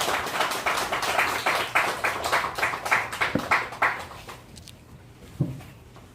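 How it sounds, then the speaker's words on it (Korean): A church congregation applauds at a Sunday service, with close, rhythmic clapping that tapers off after about four seconds, followed by a brief thump. "박수 부탁합니다"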